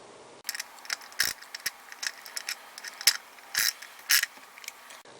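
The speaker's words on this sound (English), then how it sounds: "you'll take your 7/16 wrench and you'll secure the wrench on the lock washer" A 7/16 wrench tightening a lock nut on a catch can mounting bracket, heard as a series of close, sharp metallic ratcheting clicks and short bursts at an irregular pace, with quiet pauses between them.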